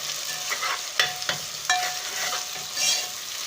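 A spoon stirs ginger garlic paste frying in a pan while making muttar qeema, with steady sizzling and several sharp scraping knocks against the pan, close and fairly loud with no talk.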